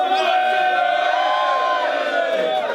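A crowd at a rap battle cheers loudly and continuously, with shouts and whoops blending into a sustained roar close by.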